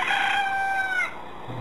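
A rooster crowing sound effect on a Spanish-language radio show, one long, loud crow that fades into quiet room tone.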